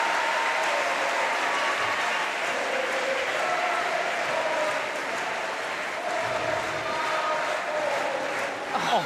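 A steady wash of crowd applause fills an arena during a wheelchair para badminton doubles WH1 WH2 bronze medal match between Switzerland and Thailand at the Paris Paralympics. It holds even and continuous throughout.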